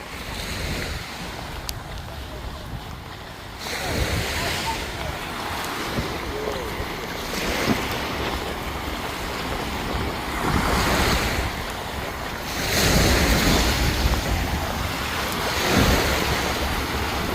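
Water in the Wangpi River rushes steadily and loudly close to the microphone, in broad continuous noise with surging swells, while gusts of wind buffet the mic.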